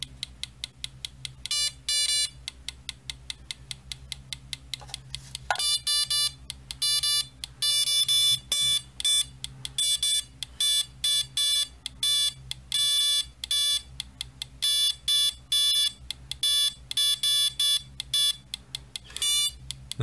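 A Geiger counter's rapid electronic clicks and beeps chatter steadily, speeding into dense bursts at times, close and clear with no voices.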